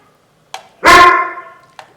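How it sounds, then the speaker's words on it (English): A standard poodle gives one loud, close bark, framed by two short, sharp yips just before and after, in an otherwise quiet indoor room. "My standard poodle is barking."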